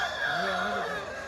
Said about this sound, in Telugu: ఇక్కడ కనిపిస్తున్న కాకినేముల పుంజు వచ్చేసి ఇది ఒక 23 హైట్ ఉంటుంది, 3 కిలోల దాకా వెయిట్ ఉంటుంది